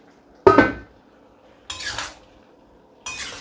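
Bamboo shoots being stirred in a cooking pot, three separate bursts of metal utensil scraping and clinking against the pot with quiet gaps between.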